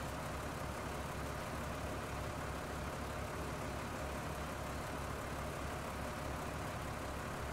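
A tractor engine in Farming Simulator 19, set up for mowing, drones steadily throughout with a low, even rumble and no pauses or talk over it.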